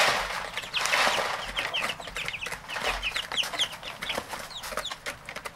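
Many chicks cheep and cluck together nearby, a continuous busy chatter of short high peeps with faint rustling underneath.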